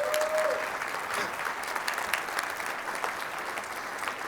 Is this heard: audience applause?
yes